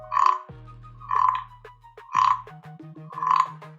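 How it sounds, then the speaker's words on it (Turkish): A 3D-printed toy frog, scraped along its ridges, gives four rasping croaks, each a short scraped ratchet, spaced about a second apart with quiet gaps between them. "Gerçekten de bence kurbağaya benzer bir ses çıkıyor."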